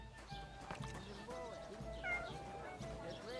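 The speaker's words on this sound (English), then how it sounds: "I heard a cat" A cat meows in a video game, brief mewing calls rising over steady game music and background ambience.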